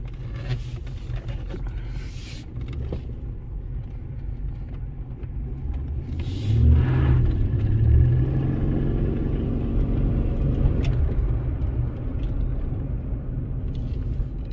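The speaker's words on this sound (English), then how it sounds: "Lots of power in this thing for a little truck with a 4-liter." A 2011 Ford Ranger 4x4 pickup with a 4.0-liter engine drives along, giving a continuous low rumble of engine and road noise that swells briefly midway and stays fairly close throughout.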